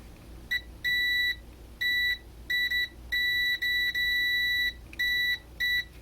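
A multimeter continuity tester beeps a shrill electronic tone in short and longer bursts at an irregular rhythm, close by and alone over a quiet background.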